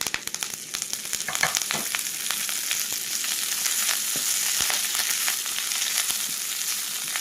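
Curry leaves frying in a little oil for sambar powder, a steady close sizzle with sharp crackles and pops throughout, no talking.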